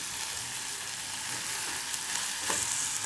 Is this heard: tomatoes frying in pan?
yes